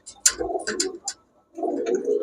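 A big Pakistani pigeon, held in a person's hands, gives a few soft low coos in two bursts separated by a short pause, close up and with nobody speaking.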